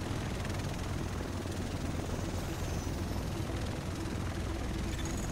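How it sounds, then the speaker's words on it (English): A helicopter arrives in the video game The Division, its rotor and engine noise a dense, steady roar that fills the scene continuously at close range with no talking. "Here it comes. Get in the chopper."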